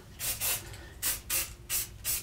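Six short bursts of aerosol spray adhesive hissing close by, each about a quarter second long, with brief pauses between them, sprayed lightly in a woodshop.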